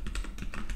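Short, quiet run of computer keyboard keystrokes during coding, several light taps in quick succession, close and alone.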